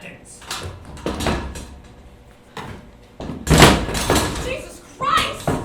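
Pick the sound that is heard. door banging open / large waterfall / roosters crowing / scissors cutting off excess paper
door banging open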